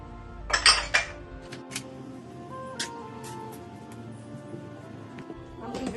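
Cups and dishes are handled while a home kitchen is being cleaned, with a cluster of bright clinks and clatters near the start and then quieter, scattered knocks over low background noise.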